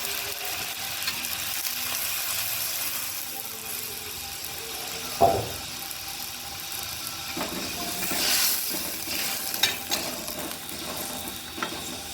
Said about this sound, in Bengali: এবার আমরা ঝোল দিয়ে দিচ্ছি। একটু ঝোলটা বেশি দিতে হয়, কারণ ধোকাগুলো জলটা টেনে নেয়।